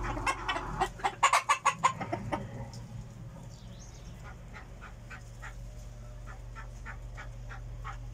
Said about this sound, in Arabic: راكم تلاحظون هنا الديك الأول، الديك الثاني، الديك الثالث